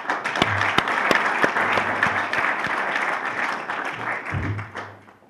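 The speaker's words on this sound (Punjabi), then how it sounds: "ਉਹ ਸਾਰੇ ਦੇ ਸਾਰੇ ਆਪਣੇ ਲਈ ਜ਼ਰੂਰ ਤਾੜੀਆਂ ਮਾਰੋ ਜੀ ਇੱਕ ਵਾਰੀ।" An audience gives a round of applause at a Canadian Sikh community gathering, dense clapping that holds steady for several seconds and then fades, with a faint voice underneath.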